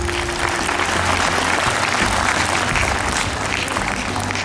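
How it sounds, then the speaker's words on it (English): A large audience at a school Republic Day celebration gives loud, sustained applause, a dense continuous roar of clapping over a low steady hum. "let's appreciate this effort by giving a huge round of applause"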